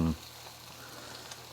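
Salmon fillet frying skin-side down in a pan for a crispy-skin meal, a soft steady sizzle running alone after a brief clunk at the start.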